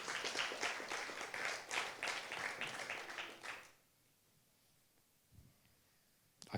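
An audience claps for two captains at a tech conference talk, a brisk round of applause lasting a few seconds before it quickly fades to near silence, followed by a faint bump and a brief noise at the end.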